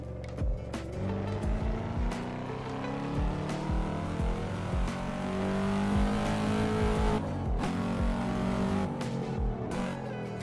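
Revving engine of a Cadillac CT5V Blackwing in a car simulator game, repeatedly climbing through gears with rising pitch and sharp shifts, loud and close, with no talking.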